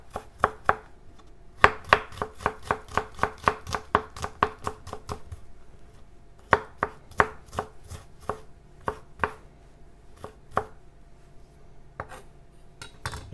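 A knife finely chopping spring onion on a board, a long run of crisp rapid taps in quick bursts with short pauses, close and clear with no talking.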